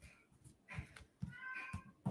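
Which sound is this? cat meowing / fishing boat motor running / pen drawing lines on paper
cat meowing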